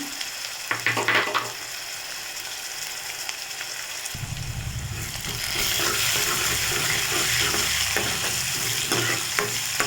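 Mustard seeds, urad dal, dried red chilies and cumin frying in hot oil, a few clicks at first and then a loud continuous crackling sizzle with stirring that carries on to the end.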